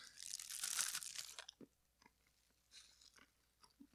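Crunchy chewing and biting on a very hard, chewy super-hot gummy bear, close to the mouth, with a burst of crunching at the start and then quieter, intermittent chews.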